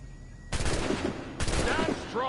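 Two loud rifle shots at targets in Assassin's Creed Black Flag crack about a second apart, each followed by a rough rumbling tail, with a voice speaking faintly underneath.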